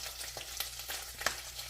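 Tomato paste with spices such as paprika cooks in hot oil, giving a soft, fairly faint sizzle and crackle with a few light stirring clicks.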